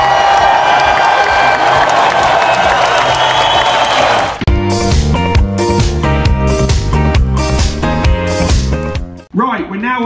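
Round of applause and cheering at a primary school celebration assembly, a loud crowd-filling wash for about four seconds that then gives way to loud rhythmic music with strong beats to the end.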